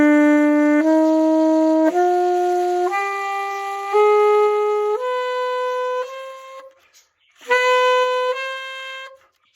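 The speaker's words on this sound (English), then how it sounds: "Now I'm going to play the harmonic minor scale with a raised 7th note." A single melodic instrument plays a harmonic minor scale with a raised seventh, clean sustained notes stepping upward one at a time, then pausing and resuming with a few more tones, close and clear with no talking.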